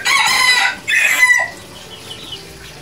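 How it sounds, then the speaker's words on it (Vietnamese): Tân Châu bantam chickens cluck and a rooster crows loudly and close, a brief burst of calls that fades into quieter background noise. "Những dòng gà kiển của gà tre Tân Châu nổi tiếng nè"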